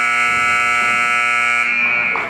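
The halftime buzzer sounds at a girls' basketball game in a school gym: a loud, harsh electronic tone held steadily for about two seconds before cutting off.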